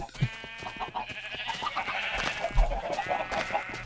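Sheep in the Minecraft video game bleat several times in quick, wavering calls, fairly close and clear, over a low game-ambience background with no talk.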